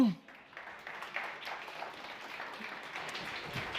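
Audience applause in a conference hall on housing renovation, a steady broadband patter of many hands clapping for about four seconds at moderate, even loudness.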